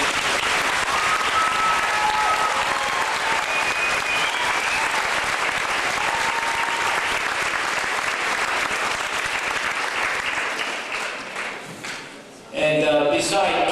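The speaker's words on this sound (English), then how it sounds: "Can you give a round of applause?" A large audience breaks into a long, steady round of applause at a wish-granting event in Richmond Hill, Ontario, the dense clapping filling the room and holding strong before thinning briefly near the end, then swelling back up.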